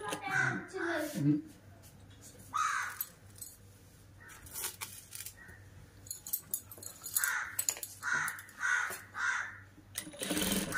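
A sewing machine stitches gathers into thin, slippery old saree cloth for a child's frock, running in short bursts at home while children chatter and a voice talks nearby.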